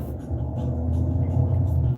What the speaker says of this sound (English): My car sounds like it's farting.